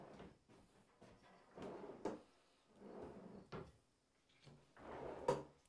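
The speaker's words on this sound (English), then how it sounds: "The drawers actually open pretty easy." Drawers on a Harbor Freight Yukon woodworking bench slide open and shut several times, each a short rumbling glide ending in a soft knock, close and fairly quiet.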